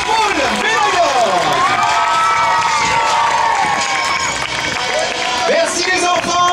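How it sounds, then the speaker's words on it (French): Crowd at a children's pony games prize ceremony claps and cheers loudly and steadily, with children shouting and lively chatter mixed through the applause. "Applaudissements pour le public"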